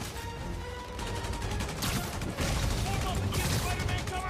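Rapid bursts of gunfire in the Marvel's Spider-Man Remastered video game, a dense fusillade of shots around police barricades, growing louder and more continuous partway through, with voices talking over the battle.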